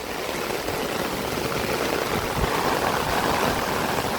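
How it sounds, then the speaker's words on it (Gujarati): Heavy rain falls over Rangpur village and its fields, a dense, loud, continuous roar of water without pause or voices. "બહુ બધો વરસાદ પડી રહ્યો છે।"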